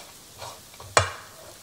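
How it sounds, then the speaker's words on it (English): Walnuts being stir-fried in a pan give a soft scrape and rustle, followed by one sharp clack of a utensil against the pan, close and brief. "I've been stir frying my walnut a little to change the color"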